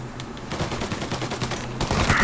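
Rapid bursts of gunfire from the video game Mafia: Definitive Edition crackle in quick succession, loud and close, with a dense rattling texture and no voices.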